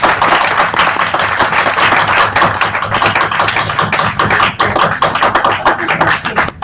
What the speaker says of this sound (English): A warm round of applause for him.